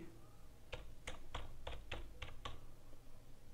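Fingers tap out an application ID on a computer keyboard in a quick, uneven run of about seven distinct keystrokes, close and crisp over faint room noise.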